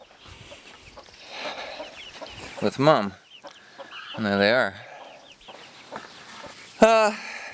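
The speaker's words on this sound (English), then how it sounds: "And then here, actual hatched 4-week-old chickens" Four-week-old chickens cluck and squawk in several short bursts close by in a garden, while a person talks softly in between the calls.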